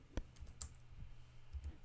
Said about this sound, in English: I'm going to type out the IP address of the server